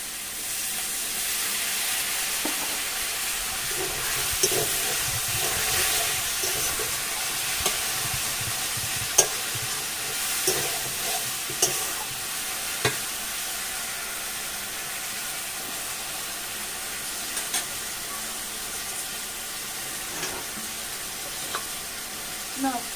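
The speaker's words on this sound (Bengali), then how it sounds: "আমি এবার কিছুক্ষণ নেড়ে নেবো" Taro root curry frying in a pan as it is stirred, a continuous close sizzle with scattered spatula scrapes and knocks against the pan, plus a faint voice now and then.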